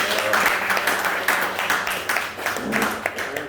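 Steady applause from the audience at a Greater Accra assembly gathering, a dense wash of many hands clapping throughout.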